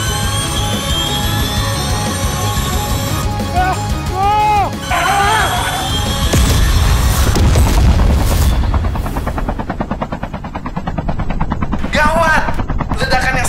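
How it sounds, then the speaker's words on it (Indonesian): A huge explosion roars out in a homemade Tamiya Let's and Go action scene, a loud, sustained rumbling blast rolling through the middle amid whooshing, layered effects and music, with a voice speaking over parts of it. "Gawat, ledakan yang sangat dahsyat."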